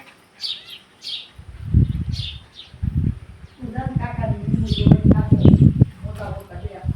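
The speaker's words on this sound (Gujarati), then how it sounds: "જુઓ, ચકલિયું બોલે છે." Sparrows chirp in quick high bursts early on at a village farm, then a voice talks loudly while faint chirping continues behind it.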